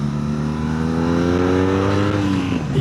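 BMW R nineT motorcycle engine revving while riding: a loud, continuous engine drone with rising and falling pitch as the revs climb and shift, with strong wind rush and no talk.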